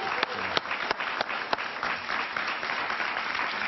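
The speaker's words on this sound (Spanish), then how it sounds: "un aplauso para Iván Duque" Sustained applause from a studio audience at a Spanish-language TV interview, honoring Colombian politician Iván Duque, with steady dense clapping and a few sharper claps standing out, running throughout.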